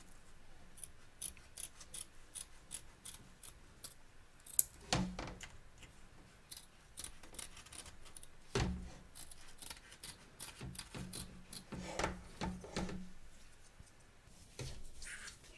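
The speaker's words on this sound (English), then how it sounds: "taking care not to cut your stitches, cut around the edge." Scissors snip around the edge of an embroidery hoop to free the stitched work, with scattered crisp cuts and soft rubbing of fabric, close and fairly quiet, with no voices.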